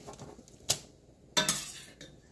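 A metal slotted spoon scrapes and clinks against a pan and baking tray while lifting soft homemade pretzels out, two distinct clattering knocks with a softer tap after, fairly close.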